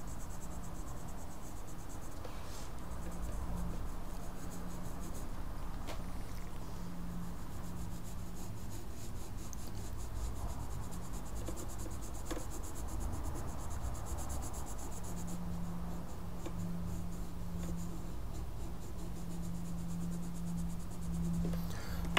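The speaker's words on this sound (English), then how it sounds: "I want to make sure my pencil is fairly sharp so I can kind of work smaller little areas of detail." A sharpened pencil works small details of a realistic apple drawing on paper: faint, soft scratchy rubbing strokes over a quiet background hum, with no voice.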